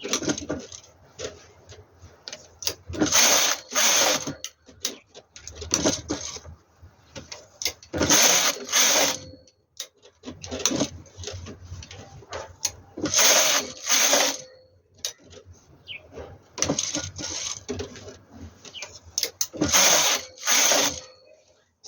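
A knitting machine carriage sweeps across a baby sweater piece about 22 needles wide, knitting row after row in repeated loud bursts of clattering ratchety noise separated by short pauses.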